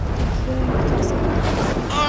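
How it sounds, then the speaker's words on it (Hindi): Strong wind buffets a swaying platform with a loud, steady roar and rumble that holds for the whole stretch without letting up. "हाँ, यहाँ बहुत हवा है।"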